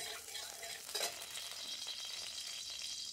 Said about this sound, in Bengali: এবার আমি কড়াইতে 1 চামচ ঘি দিয়ে দিলাম।